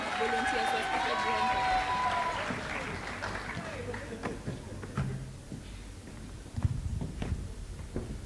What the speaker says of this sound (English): Round of applause for him as he makes it to the stage again